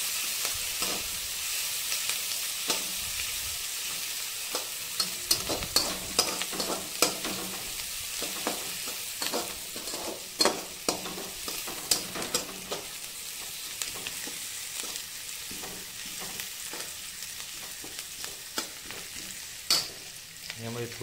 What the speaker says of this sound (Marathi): त्याला हलवून मस्त लाल होईपर्यंत तळून घ्यायचा कांद्याला